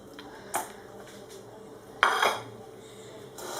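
A tajine pot holding olive oil and beef clanks down onto a stove burner, two short metallic knocks with brief ringing, close and fairly loud over quiet kitchen background.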